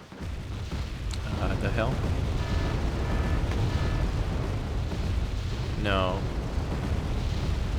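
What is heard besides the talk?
rocket artillery strikes in the video game Wargame: Red Dragon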